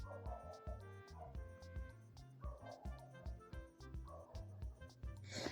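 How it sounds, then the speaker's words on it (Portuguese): Dogs barking out in a street at night, a run of repeated barks and yips at moderate distance, fairly steady throughout with no talking. "E os cachorros na rua latindo"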